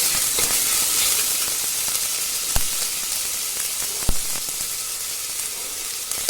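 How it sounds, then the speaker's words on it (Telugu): Onion and fennel seeds fry in hot oil with a steady, dense sizzle throughout, broken by a couple of sharp clicks of a spoon against the pan. "ఆనియన్, సోంపు కూడా బాగా ఫ్రై అవ్వాలి."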